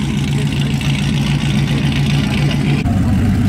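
A 1,500-horsepower Caprice police car idles nearby with a loud, deep, rough rumble and a steady low hum, shifting slightly in tone near the end.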